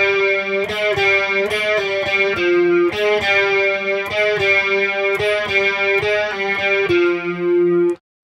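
Overdriven electric guitar with a chorus-like shimmer plays a pre-chorus melody, a repeating phrase of picked single notes alternating with a lower open string, loud and steady without any talking.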